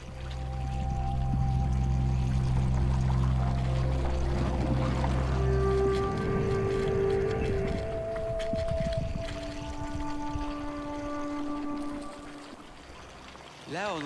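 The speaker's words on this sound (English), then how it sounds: "There we can hear the water," Acidic water bubbling and trickling at Dallol volcano in Ethiopia, a continuous watery gurgle and pour heard fairly close, with people talking over it and a low rumble in the background.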